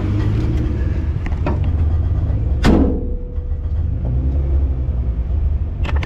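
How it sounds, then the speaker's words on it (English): Inside a moving Volkswagen Thing, a low road rumble carries on steadily, broken by a single sharp knock from underneath with a brief ringing clunk partway through. "Sounds like a knock underneath."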